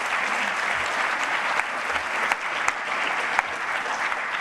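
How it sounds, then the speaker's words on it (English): Sustained applause from a conference audience at a medical imaging event's closing session, an even, dense patter of many hands lasting several seconds with a few sharper claps standing out, no voices on top. "Quick applause."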